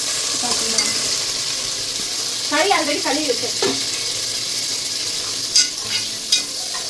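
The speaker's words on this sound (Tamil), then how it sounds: "தக்காளி எடுத்து போட்டாச்சு அப்படியே வணக்கி விட்டுற வேண்டியதான்" Chopped tomatoes sauté in a pan with a loud, steady sizzle and occasional spatula scrapes, while a faint voice sounds briefly in the background.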